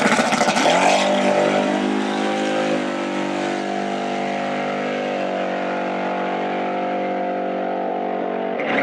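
A Tesla Model S Plaid drag races a 460ci Mercury Cougar at a drag strip. A loud engine roars at launch and holds a steady, fading drone as the cars pull away.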